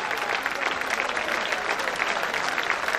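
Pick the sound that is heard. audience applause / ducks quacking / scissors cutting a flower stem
audience applause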